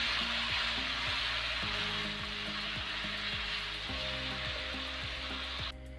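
Rice is stir-fried with soy sauce in a pan, giving a steady, close hiss of sizzling oil with rhythmic scraping strokes from the stirring utensil.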